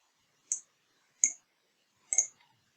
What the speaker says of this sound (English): right-click on the help and click Print